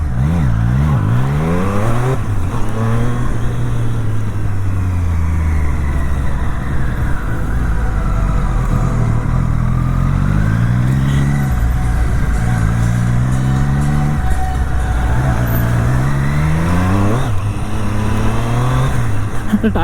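A Triumph motorcycle at a Triumph riding event, accelerating and revving hard with wheel spin, its engine pitch surging up and down repeatedly in a loud, close, continuous roar.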